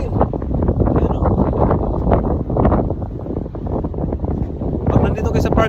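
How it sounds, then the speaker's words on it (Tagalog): Strong wind buffets the microphone in loud, rumbling gusts on the Aoyama Plateau in Iga, Japan, with people talking over it throughout. "Lakas na hangin."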